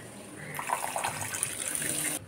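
Water poured from a container into a pan of mustard fish curry, a soft continuous splashing and trickling for under two seconds, fairly close and quiet.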